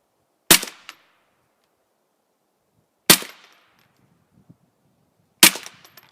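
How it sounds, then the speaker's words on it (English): Three sharp, loud .22 rifle reports from a Remington 552 Speedmaster semi-auto firing CCI Quiet 22 Long Rifle rounds, spaced a few seconds apart, each with a brief ringing decay and faint small clicks between. "Now we're going to try the CCI quiet."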